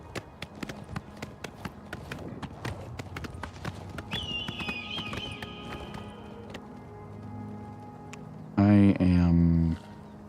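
Horse hooves clip-clop in a steady trotting rhythm in the video game Oblivion Remastered, then slow, with a brief chime and a loud synthetic tone near the end.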